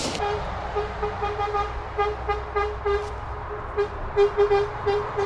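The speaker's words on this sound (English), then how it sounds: "there's someone honking" A car horn honks repeatedly in short, uneven bursts over steady traffic noise beside a freeway on-ramp, sounding fairly close, with a few longer blasts toward the end.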